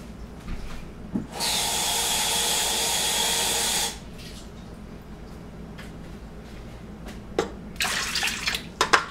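Warm water gushes steadily from a kitchen sink tap for about three seconds, loud and close, filling 2 cups for pizza dough, with faint clinks and splashes before and after.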